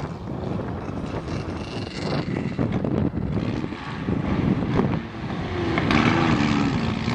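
Jeep engine labouring on an off-road hill climb while running poorly, a loud continuous roar with surging revs, buffeted by heavy wind noise on the microphone.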